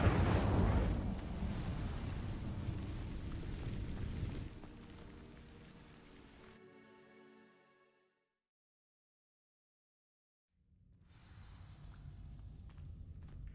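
An Incendio fire spell sets dry vines ablaze in Hogwarts Legacy: a loud burst of flame at the start fades out over several seconds into silence, followed by a low, quiet ambient rumble.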